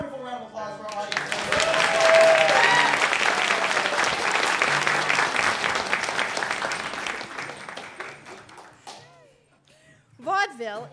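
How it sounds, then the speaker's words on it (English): Theater audience gives a warm round of applause at a vaudeville performance, swelling quickly and then fading out, followed by voices speaking. "Wonderful round of applause for our audience."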